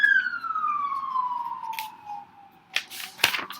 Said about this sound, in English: The whole neighborhood is just seething with sirens